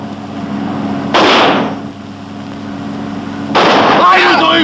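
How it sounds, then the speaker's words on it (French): Two sharp firecracker blasts go off in a 1973 French comedy film scene, each a loud sudden burst fading over a second, the second followed by raised voices. "On va leur envoyer des pétards"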